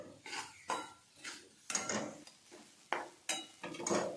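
Grated coconut fries in a pan on low heat for modak filling, heard as repeated clattering scrapes of a utensil against the pan, close and fairly loud, with a faint sizzle between strokes.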